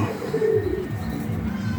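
A baby pair of red Gola pigeons coos softly nearby, with a low, brief burst of cooing over light background noise.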